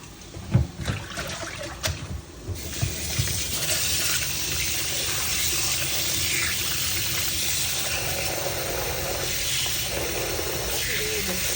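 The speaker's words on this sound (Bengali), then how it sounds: "এখন মাছগুলো ধুয়ে নেব ভালো করে।" Fish being washed under running water in a home kitchen, a steady tap-like wash of splashing and trickling water continuing for several seconds after a few brief clatters at the start.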